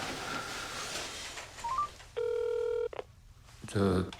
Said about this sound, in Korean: 전화 좀 씁시다